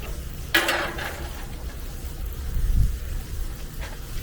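Chopped onion hits ground beef on a hot Blackstone griddle with a sudden bright sizzle and scrape, then a steady frying hiss and a low thud from the spatula, no talking.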